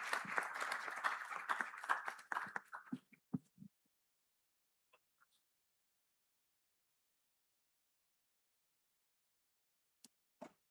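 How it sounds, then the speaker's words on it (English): Audience at an Africa summit session applauds a speaker, a dense burst of clapping for about three seconds that thins out into scattered claps and then silence. "A big applause to the speaker."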